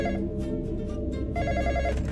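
In a graveyard night-shift horror video game, a telephone bell rings in a loud, sustained burst, a brief gap, then rings again, close and clear with no talk over it.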